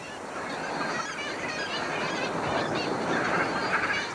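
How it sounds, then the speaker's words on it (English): Dense colony of kittiwake gulls calling together on steep sea cliffs, a continuous loud overlapping clamour of many birds with no pauses and no talking. "Kittiwakes, the most oceanic of all gulls, only visit the land to breed"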